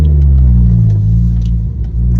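A Ford Fiesta with an electric throttle and a touchy clutch cruising along, its engine a loud, steady low rumble with a slight swell and dip near the end, heard from inside the car.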